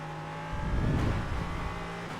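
Engine of an LMP3 prototype race car in iRacing at Spa-Francorchamps powering back up after a brief lift, a steady buzzing drone that swells midway and holds fairly loud to the end.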